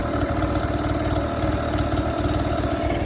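A 50cc two-stroke motor scooter engine with a freshly cleaned carburettor idles steadily and close by, a continuous buzzing putter with no breaks or revs.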